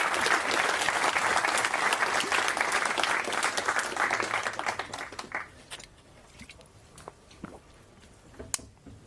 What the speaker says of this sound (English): I'm okay with people clapping for 5 minutes